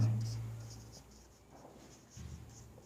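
Chalk or marker scratching across a board while a chemistry definition is written, with short strokes and taps, faint and close, mixed with a little low background noise.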